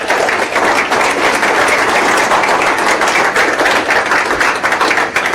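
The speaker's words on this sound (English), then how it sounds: "Let's give everybody a round of applause." An audience at a commerce tech conference event gives a sustained round of applause, dense continuous clapping filling the room at an even loudness with no talk over it.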